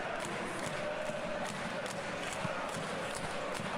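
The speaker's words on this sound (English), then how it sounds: "Crowd appreciates good football all round there." A football stadium crowd at a match gives off a steady, dense roar of murmuring and cheering, continuous and fairly loud throughout, with no clear individual voice standing out.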